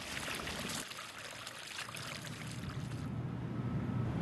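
Garden water fountain supplied by a rain barrel through an underground hose, a steady close trickling and splashing of running water, continuous and moderately loud with no voices.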